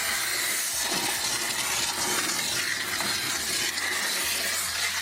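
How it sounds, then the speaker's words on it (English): A steam cleaner blasts grime off kitchen surfaces, giving a loud, steady hiss with faint rumbling underneath throughout. "I love using the power of steam to blast this stuff away"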